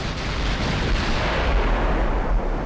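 Big naval guns firing in the Ultimate Admiral Dreadnoughts game, a loud, sustained rumble of continuous booming gunfire with no clear separate shots, heard alone without talk.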